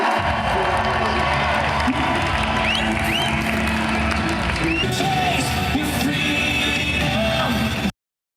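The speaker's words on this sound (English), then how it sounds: "What an incredible crowd we have." A large political rally crowd in Canada cheering and whooping in a continuous loud roar, with scattered yells and voices rising over it until it cuts off near the end.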